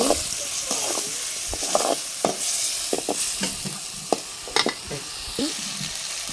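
Onions and freshly ground ginger paste fry in a pan over a wood-fired stove, a steady close sizzle broken by sharp scraping strokes of a spoon as the mixture is stirred.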